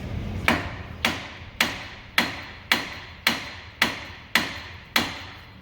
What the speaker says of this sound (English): so he's going to start whacking at it with a hammer.